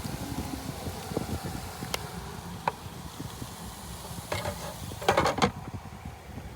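Food frying in a pan inside a car, a faint soft sizzle and hiss with a few scattered clicks and light scraping clatters, no talk.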